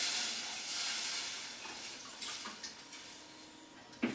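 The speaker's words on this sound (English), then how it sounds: "Now the next thing I'm going to add is the water, just to cover." Water poured into a tagine over spiced meat in a home kitchen, a steady, hissy pouring stream that thins toward the end, ending with a small splash.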